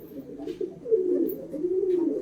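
A Shakdumma pigeon coos close by in low, rolling, throaty phrases, rising and falling twice across the short stretch with no talking.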